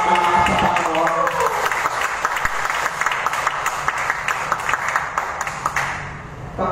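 Church congregation applauding during a sermon, a dense sustained clapping that holds steady throughout and eases slightly near the end.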